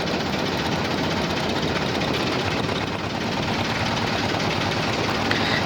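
A small trawler boat's engine on a haor wetland runs at a steady, loud, continuous rattling drone, close and unbroken, with no voices.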